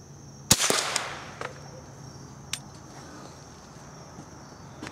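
A Remington Subsonic .22 plated hollow point round fired at targets downrange: one sharp, fairly loud crack with a short tail, then a few fainter, distant impact ticks against a quiet outdoor background.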